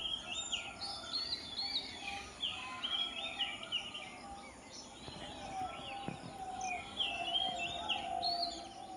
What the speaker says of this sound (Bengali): তোমরা যদি একটু যদি শান্ত হয়ে শোনো, দেখো কত পাখির কোলাহল তোমরা শুনতে পাবে।